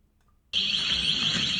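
An alarm starts abruptly at an Apple store during a theft of iPhones, a loud, steady high electronic tone that keeps blaring without a break after a moment of near silence.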